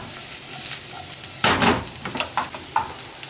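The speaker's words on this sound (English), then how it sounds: "Add the garlic, cook for another 2 minutes." Onions and garlic sizzling in a pan, a soft steady hiss with a sudden louder burst of frying as food hits the heat, plus a few light stirring scrapes.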